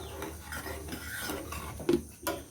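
A spoon stirs rose syrup with sugar in a pot, giving soft scraping and clinks against the metal, with two sharper knocks near the end; the sounds are fairly quiet and close, with no talking.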